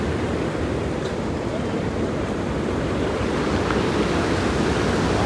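A river swollen with floodwater after heavy rain rushes past in a loud, continuous roar, with wind buffeting the microphone and no voices heard.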